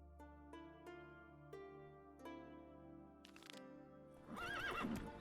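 A horse neighs and whinnies in The Witcher 3 video game, over soft, sustained game music, with a few faint hoof-like knocks. The loud whinny rises and falls near the end.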